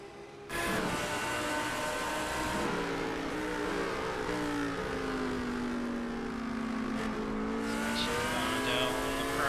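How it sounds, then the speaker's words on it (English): Ferrari GT3 race car engine in the iRacing sim at Brands Hatch on a wet track, a steady loud engine drone with shifting pitch and a few gear changes, continuous throughout with no talk. "Carving up in the wet in the Ferrari."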